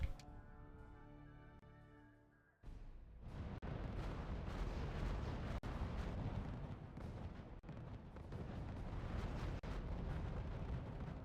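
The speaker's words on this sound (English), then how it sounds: "140mm howitzers, holy shit." Heavy 140mm howitzer artillery in the strategy game RUSE, a steady low rumble of bombardment with repeated sharp booms breaking through, after a droning tone cuts off abruptly.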